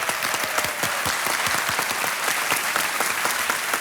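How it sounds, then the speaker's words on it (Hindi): A TV game show studio audience applauds as a contestant takes the hot seat, brisk dense clapping with distinct sharp individual claps standing out, steady and close for the full span. "तालियां एक बार फिर"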